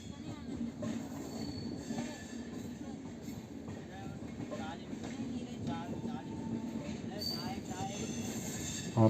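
A train pulling into Ahmedabad Junction rumbles with rhythmic wheel clatter and occasional squealing wheels, while voices murmur faintly underneath.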